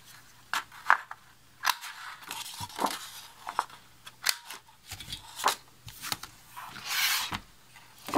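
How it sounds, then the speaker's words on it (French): A small corner punch rounds two corners of paper, giving sharp, close clicks and crunches mixed with papery rustling and handling noises in an otherwise quiet room. "J'arrondis ces deux angles avec le poinçon le plus petit."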